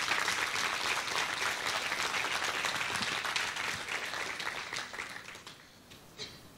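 An audience applauds for several seconds, with dense clapping that starts strong and gradually thins and fades, ending in a few scattered claps.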